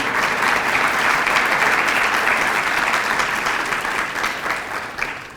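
Dense, sustained audience applause fills a banquet hall as honorees stand to be recognized, a broad even wash of many hands clapping that holds steady and then slowly tapers near the end.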